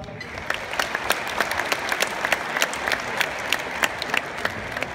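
Sustained audience applause at a town hall ball in Râmnicu Vâlcea, dense steady clapping with sharp individual claps standing out, filling the room for the whole stretch without any voices on top.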